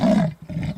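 Amur leopard giving a short, deep rasping call, a close, loud rough grunt in two quick pulses heard alone.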